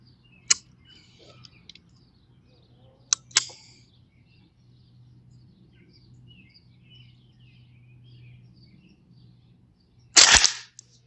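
A single sharp rifle shot from a .22 rifle such as a Mossberg 702 or Ruger 10-22 fired at 50 yards, cracking loudly near the end after a quiet outdoor stretch with a few faint clicks and a low hum.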